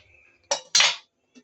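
A spoon stirring haleem with meat in a metal pot, two loud close scraping clanks in quick succession followed by a faint tap.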